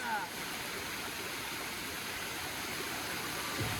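A waterfall rushes in a constant, even roar of falling water, steady and fairly close throughout.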